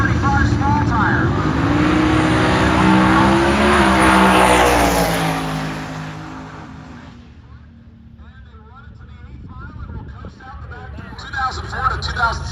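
A turbocharged LS-powered Nova on small tires launches in a drag race with a loud, swelling engine roar that sweeps up in pitch and then fades into the distance, with a voice talking over it.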